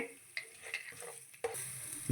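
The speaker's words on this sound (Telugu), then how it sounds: "ఇందులోనే పట్ట లవంగా ఎలాచి వేస్తున్నానండి" Close, quiet sizzling of cinnamon, cloves and cardamom dropped into hot oil, with soft stirring scrapes and a brighter crackle near the end; no one speaks.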